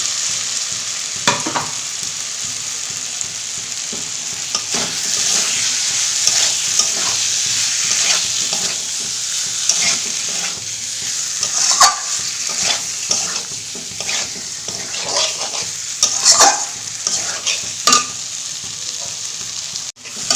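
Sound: taro pieces added to masala, frying and stirring in pan

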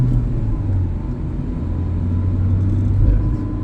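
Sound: car pulling away in first gear

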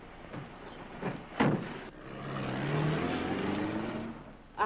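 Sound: car driving off

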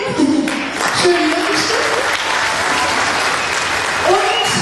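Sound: audience applause

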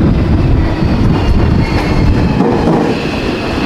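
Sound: train arriving at a small rural station in Japan

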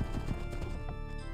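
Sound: horse hooves clip-clopping in Age of Empires II video game

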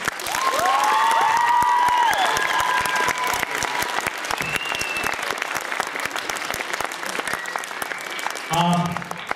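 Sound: applause

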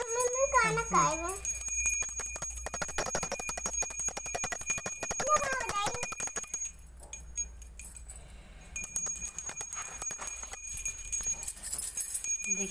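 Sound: bell ringing during a home puja

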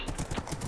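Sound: horse galloping in Minecraft video game

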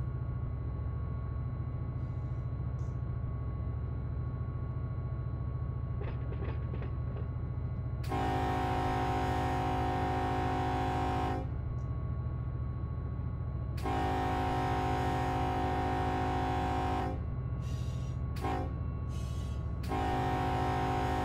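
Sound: train running in the Run 8 Train Simulator video game

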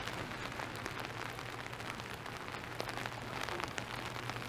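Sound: rain falling on a street in Toronto

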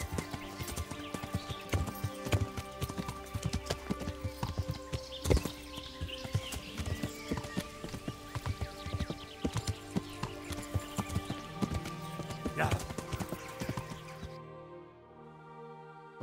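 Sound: horse hooves clip-clopping while riding, video game Kingdom Come: Deliverance

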